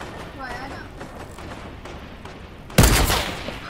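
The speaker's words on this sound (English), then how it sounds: "I mean to shoot that." Gunfire in the video game Fortnite: after a stretch of quieter game noise with a faint voice, a loud, sudden burst of shots erupts near the end and trails off into a rumbling decay.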